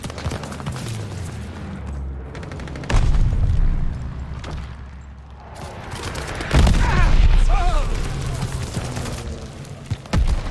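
Heavy explosions and bursts of gunfire in a Call of Duty Modern Warfare 2 match, with a loud booming blast around three seconds and another sustained roar near seven seconds over continuous battle noise.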